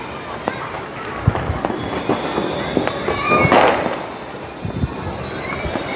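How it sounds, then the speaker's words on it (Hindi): Firecrackers and fireworks for an Eid Milad-un-Nabi celebration pop and crackle at varying distances, scattered sharp bangs with a louder burst midway, over a busy background hum. "पटाखों की आवाज़ें आपको अच्छे से सुनाई दे रही हों।"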